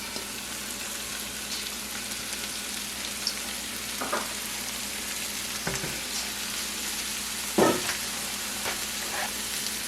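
Carrots and potatoes stir-frying in a pan with other fresh vegetables, giving a steady, close hiss of sizzling broken by a few soft clunks of stirring.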